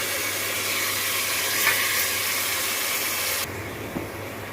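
Spices and rice frying in a pot for keema rice, a steady, close sizzling hiss that suddenly drops to a quieter crackle near the end.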